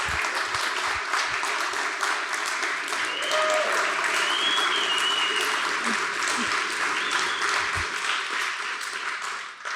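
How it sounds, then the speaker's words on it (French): Audience applause at a Paris coding bootcamp demo day, a dense, continuous wash of clapping from a large crowd that holds steady throughout with a few voices mixed in. "Je veux entendre un tonnerre d'applaudissements."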